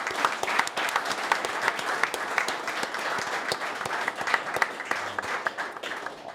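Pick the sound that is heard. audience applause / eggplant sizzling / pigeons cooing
audience applause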